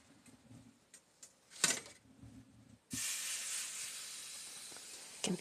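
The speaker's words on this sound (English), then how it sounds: "You can hear the sizzling sound." After a few faint clicks and taps, a soft, steady hiss of food sizzling in a pan starts and continues, quiet and close.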